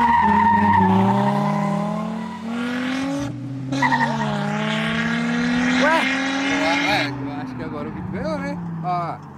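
A Nissan 350Z and a turbocharged 2.0 Jetta launch in a street race, with loud engines revving and rising through gears and tires squealing. Voices talk and shout over the noise.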